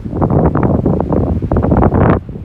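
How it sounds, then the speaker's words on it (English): Loud, steady wind roaring and buffeting across the microphone outdoors on a ranch at sunset, gusting unevenly for a couple of seconds before easing off near the end. "You can see it's getting really windy out here."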